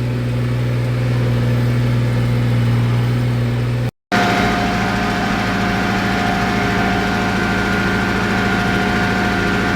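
Tractor engine working a corn field at planting time, a loud, steady drone close by that cuts out briefly and then resumes at a higher pitch as it speeds up.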